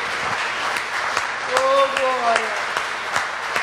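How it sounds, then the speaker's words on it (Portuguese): Church congregation clapping in praise during a worship service, a scattered, moderate round of applause beneath a leader's sung and spoken exclamations, with voices clearly present over the clapping. "Vamos aplaudir o nosso Deus"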